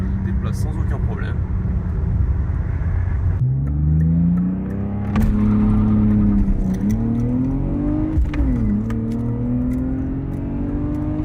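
A BMW 320i E36 revs up while driving, its engine pitch climbing through the gears in long rising sweeps, loud from inside the car, with someone talking over it.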